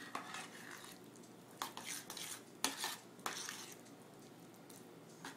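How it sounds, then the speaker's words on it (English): A metal spoon scrapes and clinks against a pot while stirring a thick Louisiana praline mixture with melting butter, faint soft stirring broken by a few sharper knocks. "she's shifted to the metal spoon"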